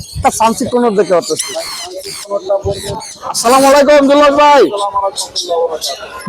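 A crowd of birds at the Mirpur bird market squawks and calls loudly and close, in overlapping harsh cries and chirps with no talk.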